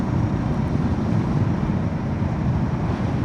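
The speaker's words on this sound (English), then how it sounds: "it's kind of windy this morning," Low, rumbling wind buffets the microphone continuously while riding a Suzuki DR650 motorcycle, a dense roaring noise with no pauses and no voices.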